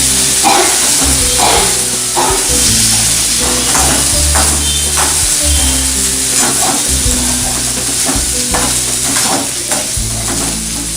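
Elephant foot yam (karunai kilangu) frying in a pan gives a loud, steady sizzle, broken by repeated stirring scrapes close by, with music running underneath.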